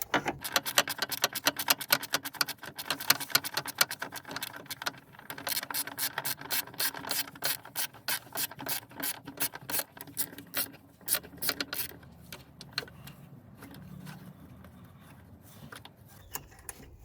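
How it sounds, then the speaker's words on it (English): A ratchet backing out T15 screws from a BMW E90 3 Series parking light, rapid close clicking in bursts that thin into slower, sparser ticks, with no talking. "the next bit is to remove two T15 screws, one on each side."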